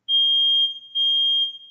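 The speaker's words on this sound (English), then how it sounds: "our threshold alarm." A threshold alarm on a commercial DPA lift gives two loud, steady high-pitched electronic beeps, each about half a second long, with a short gap between them and no talking.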